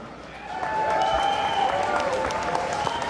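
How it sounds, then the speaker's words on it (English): Crowd applause fills the hall at an extreme fighting series event, a sustained wash of clapping that swells after the first half second and holds steady, with a voice faintly underneath. "by the judging of your performance, by round of applause, do you want to see him return?"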